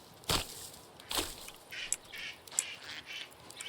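Ducks quacking in the video game Medieval Dynasty, several short bright calls scattered through a few seconds, fairly faint against a quiet outdoor background, with no talking.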